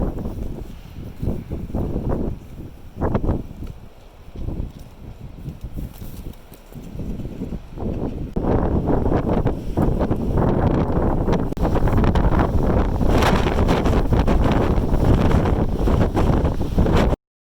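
Strong wind buffets the microphone outdoors on the Cornish coast near Logan's Rock, a loud roaring rumble that gusts unevenly at first, then builds to a sustained heavy blast.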